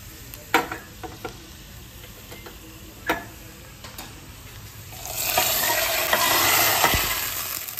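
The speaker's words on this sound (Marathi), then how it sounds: "मी इथे पटकशी देते फोडणी." A few sharp clinks of a utensil against a pan, then a loud burst of hot oil crackling and sizzling as tempering spices hit it, fading slightly.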